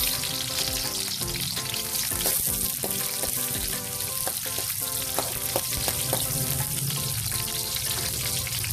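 Garlic and onion fry in a pan, a steady close sizzle with some stirring and utensil clinks throughout, no talking.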